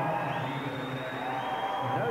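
A crowd at a 1994 short track speed skating world championship in Guildford roars and cheers in a broad, sustained swell of voices.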